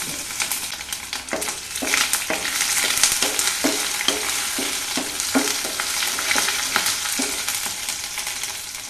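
Green chilli, ginger and garlic fry in hot oil over a medium flame, a steady close sizzle broken by regular scraping stirs about every half second, with no voices.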